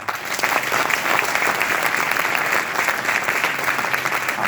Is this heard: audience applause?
yes